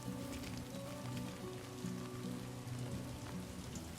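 Rain in the video game Death Stranding 2, a steady dense patter of drops on surfaces, moderately quiet and continuous with no speech.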